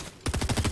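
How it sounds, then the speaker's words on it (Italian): Rapid burst of gunfire in Fortnite, a sharp onset followed by about six quick, loud, evenly spaced shots with no voices over them. "Quanto sparo!"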